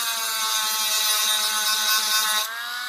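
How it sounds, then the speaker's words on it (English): A Dremel rotary tool with a grinding stone sharpens a part of a Ruger Mark I .177 air pistol, giving a loud, steady high-pitched whine for nearly three seconds that drops slightly in pitch near the end. "I got a grinding stone on the Dremel"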